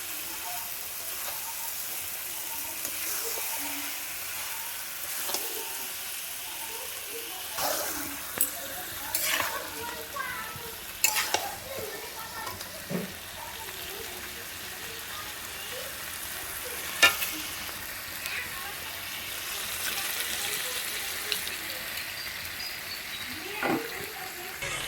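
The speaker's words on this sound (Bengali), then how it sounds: "এবার মটনটা কষা হবে।" Mutton pieces are sautéed in a thick spice paste, giving a steady low sizzle with repeated scraping and stirring clinks from a spoon against the pan, fairly close and moderately loud.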